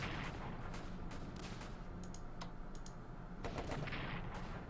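Artillery and gunfire in the Strategic Command: World War I strategy game, a steady din of booms and crackling shots with sharp bursts, fairly faint overall.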